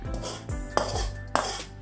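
Fried shallots and their oil being added to a cooking pan of goat beef steak: metal utensils clink twice against the pan over a steady cooking hiss, close by.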